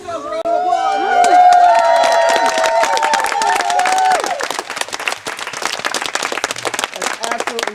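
A crowd claps and cheers, with one voice sounding above the applause early on; the clapping then settles into a steady, slightly thinner patter that carries on to the end.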